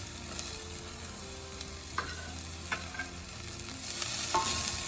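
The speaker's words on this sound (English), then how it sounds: "Keep stirring to make sure they don't burn." Onions and garlic sizzle in a pan for lasagna sauce while a spoon stirs them, a steady frying hiss with several clear scraping knocks and a rise toward the end, no voices.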